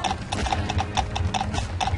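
Steady rhythmic clip-clop of horse hooves from a Slender horse video game, crisp repeated hoof strikes at a brisk trotting pace, close and prominent with no talk over them.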